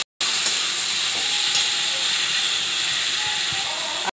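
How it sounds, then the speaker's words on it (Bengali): Raw jackfruit sautés in a hot pan with a strong, even hiss of frying that runs steadily from start to finish, with faint clinks of a utensil. "এবার কষাবো, এবার ভালো করে কষিয়ে নেব। ইঁচড়টা দিয়ে দিচ্ছি"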